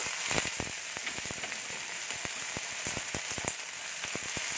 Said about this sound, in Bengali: লাল লাল হয়ে গেলে এবার আমি দিয়ে দেবো পালং শাকের ডান্ডিগুলো